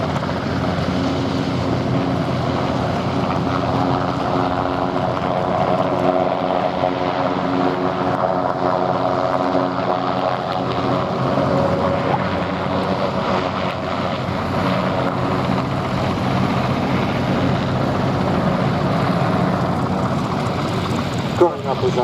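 Westland Sea King HC4 and Westland Wessex HU5 helicopters at an airshow, a steady, fairly distant rotor and engine drone holding for about twenty seconds with little change in level.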